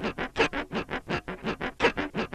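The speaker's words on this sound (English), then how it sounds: "that's me just scratching the strings with the pick" Guitar strings scratched with a pick make a rapid, even series of scraping strokes, close and fairly quiet, about a dozen in just over two seconds, with no voices.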